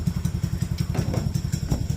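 A drag minibike engine idling nearby, a steady, loping chug of evenly spaced low pulses with a light mechanical clatter on top.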